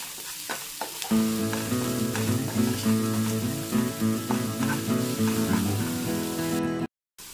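Sizzling food stirred in a pan with salt just added, a loud close crackle over rhythmic scraping strokes of a spoon against the pan, ending with a short silence.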